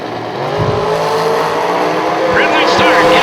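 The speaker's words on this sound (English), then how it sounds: "Listen to the motorcycle." A motorcycle at a bracket drag racing event is revved while warming up, giving a loud engine drone that builds and rises in pitch, with voices talking over it.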